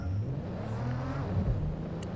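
A car engine in Watch Dogs: Legion, a London-made car, revs and roars briefly at close range, its pitch rising and falling over a couple of seconds.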